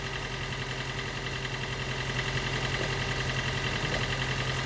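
A Toyota Prius hybrid engine runs at a steady idle, a low continuous hum with faint mechanical whir, close and alone with no talking.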